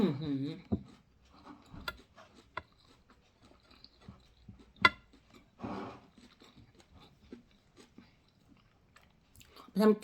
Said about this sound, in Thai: กินคำที่สี่เดี๋ยวก่อนนะ มันอร่อย หยุดไม่ได้นะทุกคน